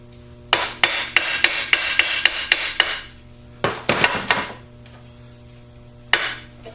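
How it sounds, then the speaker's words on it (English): A part being hammered into place on a metal twin-receiver winch mount in a workshop: a quick run of about nine sharp ringing metallic taps, a pause, a tighter cluster of four, then one final close, loud strike. "And just tapping it into place."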